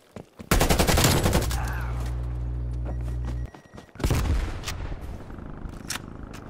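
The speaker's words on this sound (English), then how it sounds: "Multiple hostile sentry turrets working your AO." Sustained rapid automatic fire from hostile sentry turrets in Call of Duty Cold War, a loud continuous burst for about three seconds, then a short pause and more gunfire with explosive thumps.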